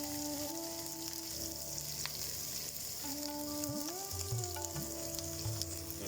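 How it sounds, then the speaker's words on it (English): Ginger, garlic and spring onions sizzle and fry steadily in a pan for chicken stir-fry, a continuous close crackle with occasional stirring scrapes and clinks, no voices. "We do want it to fry, but we definitely don't want it to burn"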